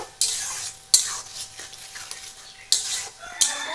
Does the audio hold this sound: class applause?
no